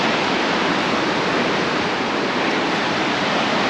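A waterfall roars close by on a mountain trail, a loud, dense, unbroken rush of falling water filling the whole stretch with no voices.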